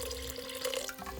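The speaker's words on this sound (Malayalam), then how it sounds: "വഴറ്റി പാത്രം കഴുകി വെള്ളം ഇതിലങ്ങ് ഒഴിക്കുകയാണ്." Rinse water from a washed sautéing pan poured into a pot of black chickpeas for Kerala kadala curry, a steady close splashing pour lasting about a second.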